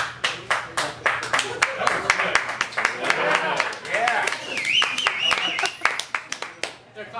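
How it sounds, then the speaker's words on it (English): Audience at an open-mic spoken word and beatbox night at Weber's Place claps in scattered, uneven bursts, with someone talking over the clapping throughout. "They're clapping about the drive-by."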